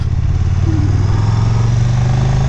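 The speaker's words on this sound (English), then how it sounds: "It has a standard exhaust. It doesn't sound too bad though, because it's a 2-cylinder." A 2018 KTM 1290 Super Duke GT two-cylinder motorcycle with a standard exhaust idles or runs steadily close by, a loud, continuous low throb with a fast pulsing rhythm and no voices.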